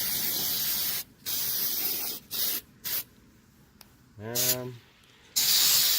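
Several bursts of aerosol spray, loud close hisses of varying length separated by quiet gaps, with a brief spoken word in between.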